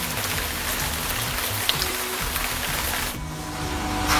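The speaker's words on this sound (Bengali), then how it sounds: "বৃষ্টি শেষ হওয়ার জন্য অপেক্ষা চলছে।" Steady rain pours down and patters on surfaces outdoors at a Bengali crime-show shoot, a dense, continuous hiss with no voices.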